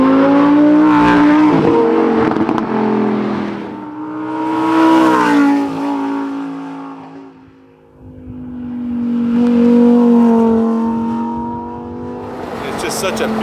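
Lamborghini STO lowered on its suspension, V10 revving hard with the exhaust valves held open, loud and close in a series of rising and falling throttle blips with a brief dip near the middle.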